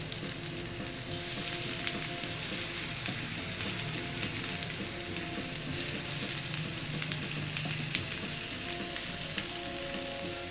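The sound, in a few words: chicken seekh kababs frying in a pan, turned over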